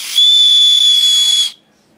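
A small whistle built into a Leaning Tower of Pisa badge gives one loud, shrill, steady blast of about a second and a half, breathy and close, then cuts off sharply.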